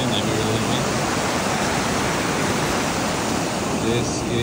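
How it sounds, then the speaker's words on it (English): Water pours steadily into a small rock pool along a hiking trail, a dense continuous rushing sound, close and loud, with no pauses. "You can see the water flowing or not."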